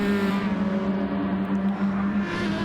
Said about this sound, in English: That lovely sounding Supra. Sounds so good.